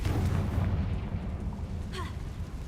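Confringo, an explosive spell cast in Hogwarts Legacy, lands as a deep, rumbling blast at the start and fades into a low roar over a couple of seconds.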